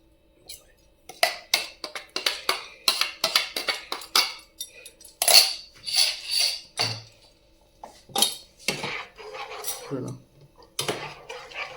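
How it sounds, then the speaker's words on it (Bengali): Metal utensils clatter and scrape in a cooking pan as ginger-onion paste goes in with potatoes, for a rohu fish dish, giving a busy string of close clinks and knocks with a voice talking at times. "এবারে দেবো আদা পেঁয়াজ বাটাটা।"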